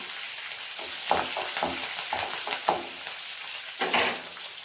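Curry leaves, green chillies and onion sauté in a pan beside a strip of cinnamon, giving a steady close sizzle broken by several sharp stirring scrapes and crackles.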